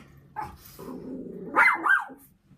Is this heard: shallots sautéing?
no